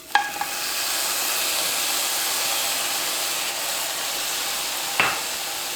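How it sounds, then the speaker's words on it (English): Frozen mushrooms sauteing in a pan on a stovetop give a steady, even sizzle and hiss that runs throughout, with a couple of brief clinks from a utensil near the start and again near the end. "We're going to start by sauteing these frozen mushrooms."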